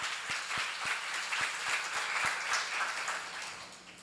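A church seminar audience applauds steadily for several seconds, a dense wash of clapping that holds even and then tapers slightly toward the end.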